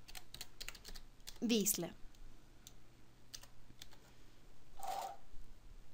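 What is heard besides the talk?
typing text on a computer keyboard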